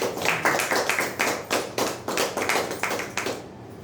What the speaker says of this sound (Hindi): प्रभु के लिए ताली बजाएंगे।